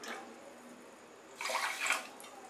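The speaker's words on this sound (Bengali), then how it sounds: "শিরা তৈরি করার জন্য আমি কড়াইতে 1 কাপ চিনি দিলাম আর জল দেব।" Water poured into a pan of sugar for syrup, a brief splashing pour near the end, faint and close against a quiet background.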